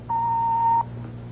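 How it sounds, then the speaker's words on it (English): A single steady electronic answering machine beep sounds for under a second, clean and sustained, then cuts off over a low hum. "Just wait for that beep and then let it all hang out."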